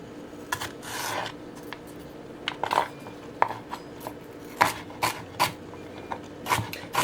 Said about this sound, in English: I'm going to put another cut in there.